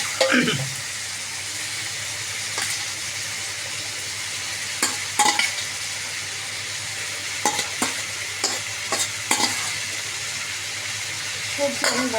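Chopped vegetables, papaya and yardlong beans, stirred into fried spice masala in a hot pan: a loud, continuous sizzle with intermittent scrapes and clanks of a spoon against the pan.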